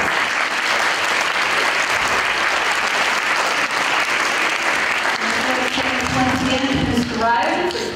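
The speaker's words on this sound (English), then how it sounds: "Let's give them a round of applause." School assembly audience gives a sustained round of applause at a 100th day celebration, thick continuous clapping filling the room, with voices emerging as it thins toward the end.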